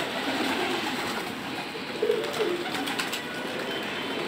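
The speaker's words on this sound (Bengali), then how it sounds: "আমার কবুতরগুলো পানি খাওয়ার জন্য সব নামতেছে সব পানি খাইতেছে" Pigeons in a loft come down to drink water, giving soft, low cooing under a dense, continuous wash of rustling and wingbeat-like noise that fills the whole stretch, with no talk.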